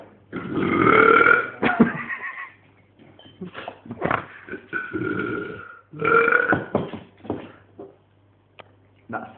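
A man lets out a series of loud, long, rumbling burps, about five drawn-out belches separated by short pauses, close and prominent.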